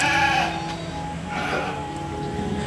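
Dorper sheep, both black-headed and white-headed, bleating in a farm pen, with several overlapping drawn-out bleats, one loud and near at the start and others further off under steady background noise.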